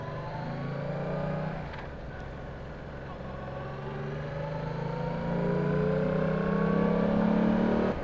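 Yamaha MT-07 motorcycle engine accelerating while riding, a steady drone that rises in pitch as revs climb, heard under wind noise.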